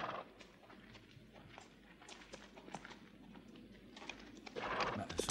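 Horses in rural Afghanistan move about with faint, irregular hoof clip-clops and shuffling over a noisy outdoor background. The sounds grow somewhat louder toward the end, with no speech.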